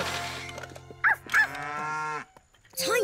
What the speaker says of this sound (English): Come back, cow!